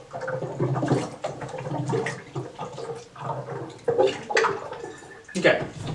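Water is poured quickly into a bottle, a continuous gurgling, splashing stream with uneven surges, close by, while a person talks over it.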